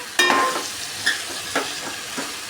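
Chicken pieces being stirred and tossed with masala in a pan for chicken fry, four distinct scraping strokes close up over a soft sizzle, no talking.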